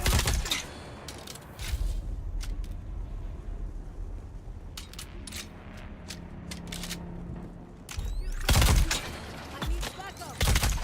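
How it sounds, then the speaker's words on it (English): SMG gunfire in Dune: Awakening, sharp separate shots and quick bursts spread across the stretch, loudest near the start and end, with mechanical clicks and a player speaking between them. "I'm just gonna use the SMG to break shields for you."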